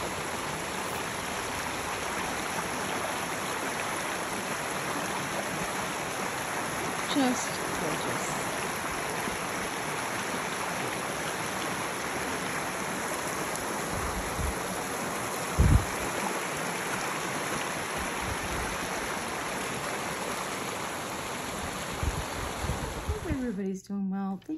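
A mountain creek flows beside a small cabin, a continuous, even rush of water holding steady throughout, with a couple of faint knocks and a short word spoken near the end.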